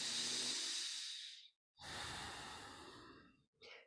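Slow, deep breaths during a qi gong stretch: a long, airy exhale, a brief pause, then a second long breath and the start of a third, all close and clear with no talk.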